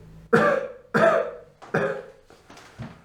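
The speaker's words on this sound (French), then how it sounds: "Toussez." Four sharp coughs in quick succession, close and loud, each trailing off, the last one softer.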